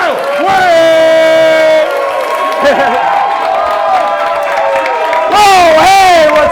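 A comedy club audience at the New York Comedy Festival greets a comic with loud whoops, shouted cheers and applause, close and boisterous, with a fresh burst of yelling near the end.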